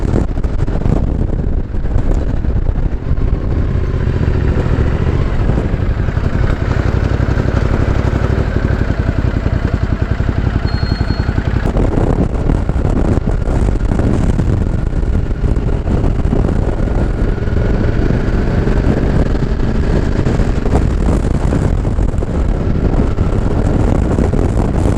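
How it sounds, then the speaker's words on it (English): Strong wind buffets the microphone while riding a motorbike along Southport promenade, a loud, continuous roar with engine drone underneath for the whole stretch. "a very strong wind blowing straight into my face."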